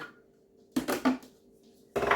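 A lid goes onto a Thermomix bowl while onion soup is being prepared, giving a few close clattering knocks of the lid seating, then a final brief rattle.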